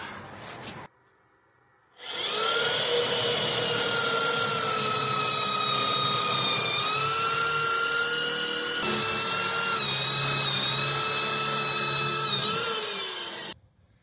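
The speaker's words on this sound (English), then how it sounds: "It's just a cheapy little Walmart drill, but the RPMs are higher." A cheap high-RPM Walmart power drill whirs loudly and steadily for about twelve seconds, its pitch dipping slightly under load before it stops.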